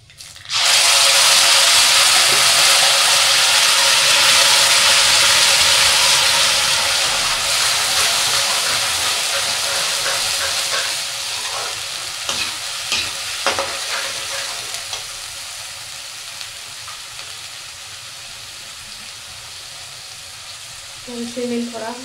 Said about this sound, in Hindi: अब इसमें डाल दूँ मैं प्याज टमाटर का पेस्ट